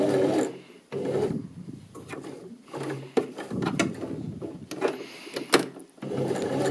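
Sewing machine stitching a thumb hole cuff for a sweatshirt, short close bursts of whirring and rattling separated by brief pauses as the machine runs forward and in reverse.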